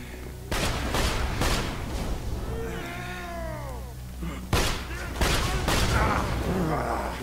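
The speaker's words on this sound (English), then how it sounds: "Grenade." Borderlands 2 combat with a grenade blast and gunfire: sharp broadband bursts open and close the stretch, with sweeping sci-fi whine effects in between and game music or speech murmuring underneath.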